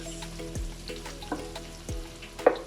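A veg breyani mixture is stirred in a pot, giving a faint steady sizzle with a few soft scrapes of the spoon against the pot and a sharper knock at the end.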